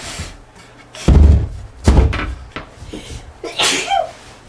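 One sharp, loud sneeze from a nearby person in a room, followed by a second burst and some thumps and faint indoor sounds.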